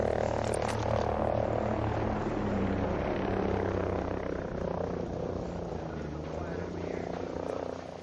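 Helicopter in the game Ghost Recon Breakpoint flying overhead, a steady loud rotor drone with low throbbing that holds for the whole stretch and fades slightly toward the end.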